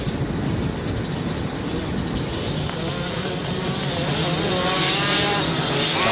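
Race car engines rev together at the start of a 3-hour steel-shoe ice endurance race in 2000, a loud sustained roar of many motors with rising intensity toward the end.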